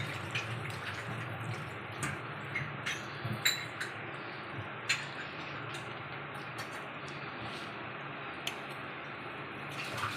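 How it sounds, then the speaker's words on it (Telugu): Water is poured into bottle gourd flour batter for Telangana sarva pindi, a steady soft splashing and trickling stream, close and continuous, with a few small drips and clinks. "పొడిగా ఇప్పుడు మనం నీళ్ళు పోసుకోవాలండి"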